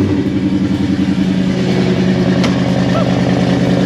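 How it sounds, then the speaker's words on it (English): A steady, deep idle from a Ford F100 truck with a swapped Coyote engine, after a cold start, with a throaty exhaust rumble, running close and unchanging throughout. "A little bit of a different exhaust tone with maybe one tension muffler"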